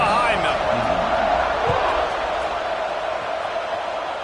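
A football stadium crowd cheers with a dense, steady roar across the whole stretch while a commentator's voice talks over it.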